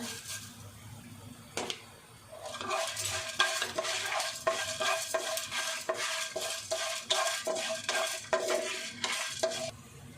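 Fenugreek seeds and white sesame seeds fry in a pan for curry leaves rice, a close sizzle broken by rhythmic stirring scrapes and light clinks of a utensil after a quieter start.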